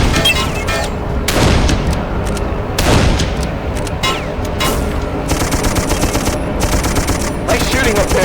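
Sustained video game gunfire in Darkest of Days, loud rapid machine-gun bursts mixed with heavy booming blasts of artillery, dense and continuous with voices shouting faintly underneath.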